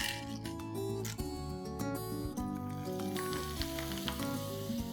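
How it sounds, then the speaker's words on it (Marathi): Poha papads (mirgund) fry in hot oil with a continuous bright sizzle and crackle, moderately quiet and steady throughout, with faint tonal background sound underneath. "पण मी ऑलरेडी केलेले घेऊन आलेले, त्याला ते आपण फ्राय करूया"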